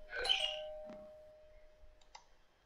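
A doorbell chimes inside a Roblox city game, a bright two-tone ring that fades with a faint lingering hum, followed by a couple of soft clicks.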